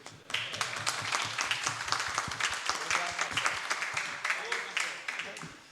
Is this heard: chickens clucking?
no